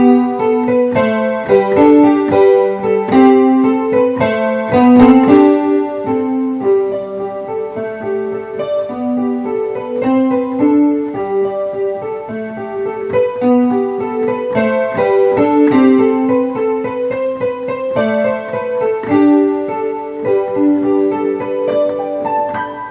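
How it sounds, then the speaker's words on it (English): The beginner piano tune Paciencia played in the fifth hand position, with the same note sequence moved to new keys. It is a steady, continuous melody of clear piano notes over a lower supporting line, close and unaccompanied by any voice. "We can also play this song in the 5th hand position."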